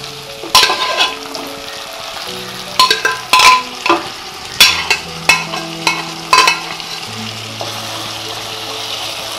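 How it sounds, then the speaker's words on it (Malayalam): Mutton stirred into roasted coconut masala frying in a pan, with a loud, steady sizzle broken by repeated scraping stir strokes and soft background music underneath. "നമുക്ക് ഈ മട്ടൻ ഇതിലോട്ട് പകർത്താം"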